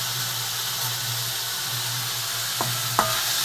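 Tomato and onion with salt sauté in a pan, a constant loud hiss with a low hum underneath and two brief scrapes near the end.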